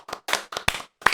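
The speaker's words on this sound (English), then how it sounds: "Round of applause." A round of hand clapping at a casual mukbang gathering, five short bursts of claps close by, fairly loud, with brief gaps between them and no talk.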